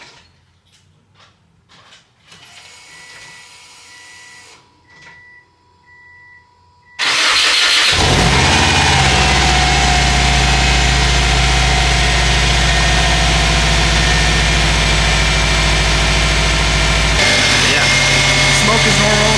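After a quiet stretch with faint clicks and shuffling, a Subaru WRX fitted with a billet wheel turbo cranks and fires, then settles into a loud, steady, rumbling idle close by that carries on to the end.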